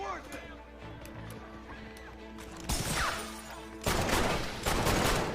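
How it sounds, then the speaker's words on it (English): Gunfire from a shootout in the Red Dead Redemption video game: dense bursts of shots and crashes build and grow louder over game music and background noise. "I'm gonna start a shootout"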